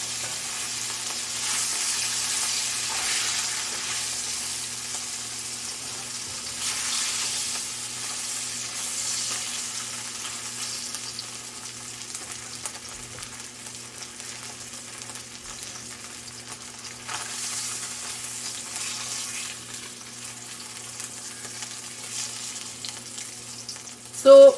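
Fish fries in a pan for a Bengali aloo diye macher jhol curry, a steady close sizzle with gentle swells of hissing throughout and a short sharp clatter at the very end.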